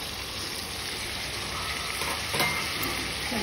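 Chicken and chopped tomato fry and get stirred in a hot pan for a Nepali chicken gravy, giving a steady close sizzle with soft scraping stir strokes throughout and a slightly louder stir near the end.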